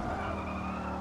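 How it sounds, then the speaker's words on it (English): Engine drone with a sustained tire squeal as a car spins out in the Forza Motorsport racing game played on a racing wheel, short and fairly quiet with no voices. "And this car's spinning out."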